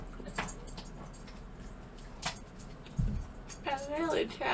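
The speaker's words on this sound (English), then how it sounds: "That's the dog." A dog gives a short high whimper near the end, after scattered clinks and rustles, while people talk nearby.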